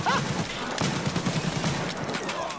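Rapid gunfire in the Escape from Tarkov video game, a dense burst of overlapping shots at mid distance, with players talking over it.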